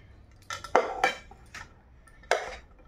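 Dishes clink and clatter in short, close bursts while a plate is readied with rice and onion-chilli food, about four distinct knocks of metal utensils against plates.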